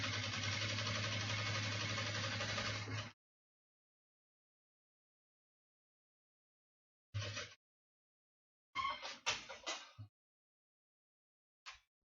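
Sewing machine stitching a plastic layer to a fabric lining for a luxury toiletry bag, one steady three-second run of stitching followed by silence and a few short bursts of machine sound.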